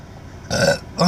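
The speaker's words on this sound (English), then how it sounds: "Maybe I needed that burp." A single short, loud burp from a man during a live talk show, two voiced bursts close to the mic with no talk over it.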